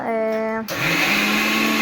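A mixer grinder whirring as it grinds chutney in a home kitchen, a steady loud motor drone that shifts pitch partway through, with a brief voice at the start.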